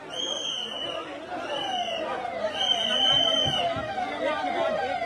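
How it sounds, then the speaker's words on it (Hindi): An ambulance siren wails in repeated rising and falling sweeps as it arrives amid a crowd at the Maha Kumbh gathering, heard through steady chatter and crowd babble. "एक के बाद एक लगातार एम्बुलेंस आ रहा है"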